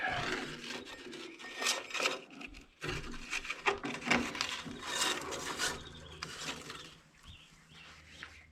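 Belt grinder running a coarse 36 grit belt against a titanium knife blade, giving a continuous loud rasping grind that surges and fades as the blade is pressed and lifted, with a brief pause midway.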